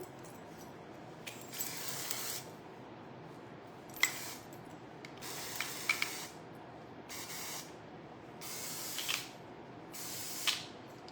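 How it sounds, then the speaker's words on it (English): Hairspray hisses from an aerosol can onto freshly curled short hair in several short bursts with brief pauses between them, close by and fairly quiet. "now we're gonna go in with actual hairspray"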